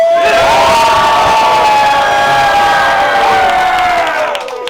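A large crowd at a battle rap event in a New Westminster studio cheers and whoops loudly, sustained roar with shouts rising over it, tapering off slightly at the end.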